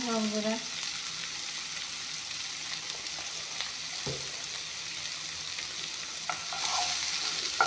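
Onions fry and stir in a pan for an Assamese home recipe, a steady close sizzle with scraping stirs, no talking.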